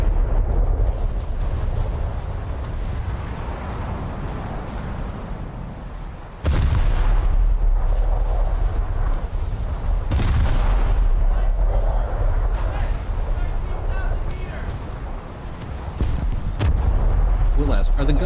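Heavy naval guns boom in a naval battle video game, with a sharp loud blast near 6.5 seconds and another near 10 seconds over a continuous low rumble of engines and distant gunfire, with a voice talking at times.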